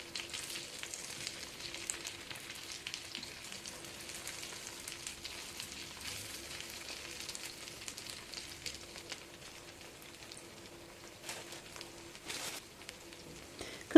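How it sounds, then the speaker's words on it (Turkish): Steady, quiet sizzling of meatballs frying in a pan, a soft crackling hiss that carries on throughout with a few sharper pops near the end. "karıştırarak köftelerimizi eşit şekilde kızartalım"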